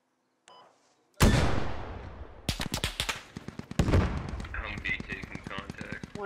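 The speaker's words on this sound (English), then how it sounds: "What a hell of a fucking shot that was." Gunfire in the military shooter game Squad during Marine infantry combat: a sharp single shot, then quick clusters of rifle and machine-gun bursts, loud and close, with a voice speaking briefly between volleys.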